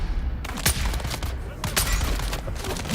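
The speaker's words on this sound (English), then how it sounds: "We don't need to talk about those missed shots." Gunfire in the survival game Dune: Awakening, a dense, loud volley of sharp shots in quick, irregular succession over about three seconds, with no speech.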